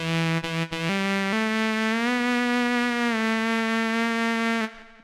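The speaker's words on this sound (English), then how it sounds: "it's got this tenor sax patch." A Modal Cobalt 5S synth playing its tenor sax patch: a sustained, buzzy reed-like tone holding one pitch with a few small pitch steps, loud and alone, cutting off abruptly at the end.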